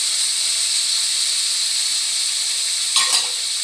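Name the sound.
kabuli chickpeas added to hot pan, sizzling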